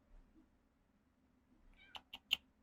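A pet cat named Moon Pie gives three short, quick meows close by in a quiet room, each brief and sharp, after near silence.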